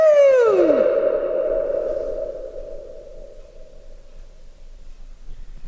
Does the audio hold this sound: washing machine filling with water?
no